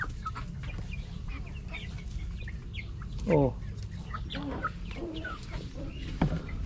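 Breeder chickens clucking in a farm pen, several birds giving scattered near calls over a steady background noise, with one brief spoken exclamation.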